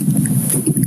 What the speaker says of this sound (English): it's windy, eh?